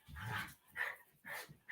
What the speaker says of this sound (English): The dogs are talking to each other.